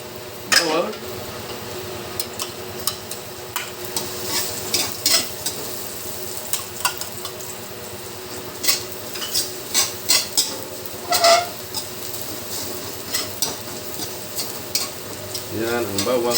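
Garlic sautéing in a pan alongside ginger for a Filipino fish with tausi dish, a steady sizzle broken by repeated sharp scrapes and clinks of a utensil stirring against the pan.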